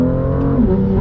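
A BMW M car floored at full throttle, its engine droning loud and steady from inside the cabin with a slowly rising tone, no voices over it.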